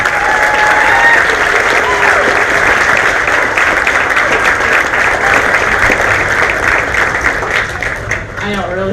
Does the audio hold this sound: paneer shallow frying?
no